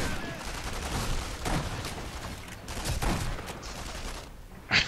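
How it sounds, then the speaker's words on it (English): Repeated gunfire in the video game Sniper Elite V2, set in city streets: sharp shot bursts punch through a continuous noisy battle backdrop, with a louder crack near the end. "Watching your freaking vapor trails go by him as I'm shooting him in the head"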